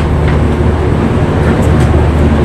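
Mumbai LTT to Chennai Express 12163 pulling out of the station, heard from inside a 3A coach: a steady, loud low rumble of the moving train rolls on without break, with no talking.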